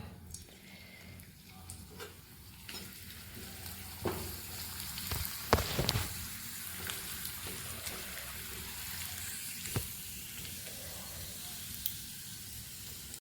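Papad fries in hot oil with a steady, fairly quiet sizzle, broken by a few sharper crackles and bursts as pieces go in and come out; no talk.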